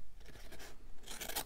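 Scissors trim paper ephemera for a junk journal with a few quick, close snipping and rasping cuts, the last one louder and crisper.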